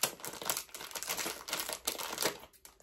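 Scissors cut open a plastic mystery bag up close, a quiet run of crinkling and snipping crackles in uneven bursts.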